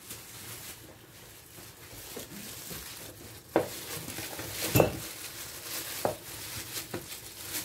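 Tripe (douara) going into a pot and cooking, with a low steady simmer broken by several sharp clanks and scrapes of utensils against the pot, loud and close, no talking.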